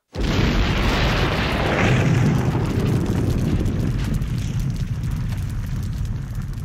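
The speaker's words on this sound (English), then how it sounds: "And just for good measure, they blow it up." An explosion blowing up a well in the 1993 horror film Leprechaun, a sudden loud boom followed by a long, heavy rumbling roar that stays strong for several seconds with no voices.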